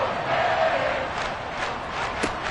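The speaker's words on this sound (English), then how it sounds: "This crowd turning up the decibel level." Stadium crowd at an NFL Monday Night Football game, Tennessee at Miami, roaring loudly and steadily as noise builds on a third down, with no break in the sustained din.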